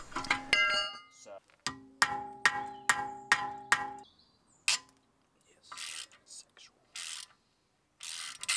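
Metal tool turning the wheel bolts on an Audi A4 during wheel bearing work: a quick run of clicks, then six evenly spaced ringing metallic strikes or ratchet turns up close, followed by scattered scraping and clattering with brief gaps.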